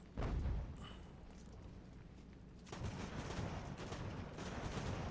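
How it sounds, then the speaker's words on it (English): Artillery fire in the strategy video game Ultimate General: American Revolution, low rumbling booms and crackling volleys layered into a continuous distant battle din, fairly quiet, with no one talking. "His artillery's killing me back there."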